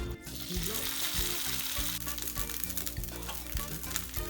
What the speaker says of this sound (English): in a small frying pan, I've just got some oil, and I'm gonna add the refried beans